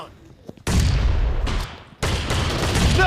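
An M1014 shotgun fires in a PUBG Mobile team deathmatch, two heavy booming blasts in quick succession, loud and close, with a faint voice just before the first shot.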